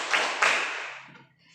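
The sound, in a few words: hand clapping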